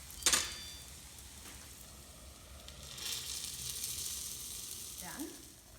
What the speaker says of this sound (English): We can drop at least 3 to 4 idlis depending on the size of the pan. And slow down and cover with the lid.